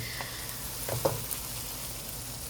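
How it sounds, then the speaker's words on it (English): Lentils stirred into a hot, sizzling pan while cooking niramish, a steady fry hiss with a couple of soft scraping stirs in the middle. "Soon after adding the lentil, just stir it in"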